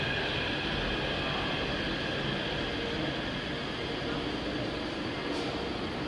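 Taipei Metro 381-series train, set 515/516, running at Yuanshan station, heard as a steady, loud rumble of wheels and motors with broadband hiss that holds throughout without pause.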